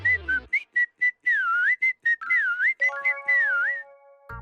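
Cartoon character whistling a lively melody alone, a string of short tweeting notes and warbling trills ending on a long held tone.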